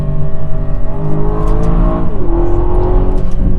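A 2021 Aston Martin DBX engine drones loudly at steady revs, then its pitch drops sharply partway through on a paddle-shifted downshift, continuing at a lower, rumbling tone on a twisty mountain road.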